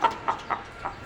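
Chickens cluck in a poultry shop selling red hens, four short clucks spaced out over a quiet room background, no talk.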